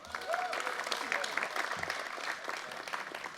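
Crowd applause at a university design showcase as staff are introduced, a continuous patter of many clapping hands heard from a distance, fairly soft and even throughout, with faint voices underneath.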